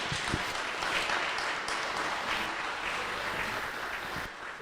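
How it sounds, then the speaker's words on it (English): Round of applause from the audience at an academic lecture on youth well-being, a moderate, even clapping from a hall that runs for the whole few seconds. "Please give a round of applause to..."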